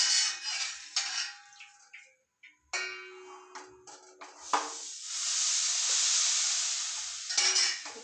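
Hot ghee poured into Mysore pak batter while it is stirred in a pan, giving a steady bubbling sizzle that swells loud and continuous after scattered scraping and stirring knocks.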